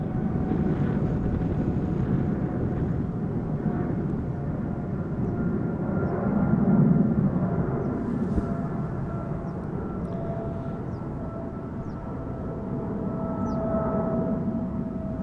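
A KLM Boeing 737-800 jet arriving at Amsterdam Schiphol Airport in crosswind gives a broad, steady engine roar with a whining tone, swelling slightly midway then holding at a moderate distance, with no talk.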